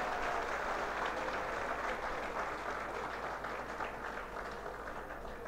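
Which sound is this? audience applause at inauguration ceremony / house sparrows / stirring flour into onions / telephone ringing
audience applause at inauguration ceremony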